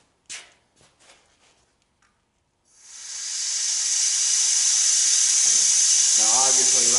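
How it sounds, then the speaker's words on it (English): Compressed air escapes from an exhaust port hole on a Packard engine under build: a sharp, sustained hiss starts abruptly after a few light knocks and stays loud and steady. A faint voice murmurs near the end. "I can hear air coming out of this hole right here, and that's an exhaust port hole"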